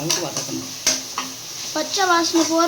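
Food being sautéed and stirred in a pan for biryani, with bursts of sizzling and utensil scrapes against the pan, close and fairly loud, while a voice speaks over it.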